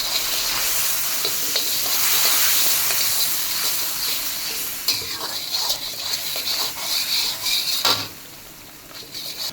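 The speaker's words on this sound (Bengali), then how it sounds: "মশলাটা কষিয়ে নিচ্ছি।" Spice mix with turmeric powder stirred and fried in a pan for a saucy curry, a loud, close, continuous sizzle with scraping spoon strokes that grow choppier toward the end, no talk.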